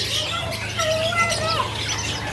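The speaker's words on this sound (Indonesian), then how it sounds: "Ini bubut jambul ya." Bird calls ring out over a steady low hum at a bird market, a series of clear whistled and squawking notes from a greater coucal, fairly close.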